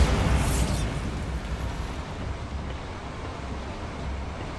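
Spell blast in Hogwarts Legacy: a loud, broad explosive boom at the start that decays into a sustained rumbling roar, with no voices.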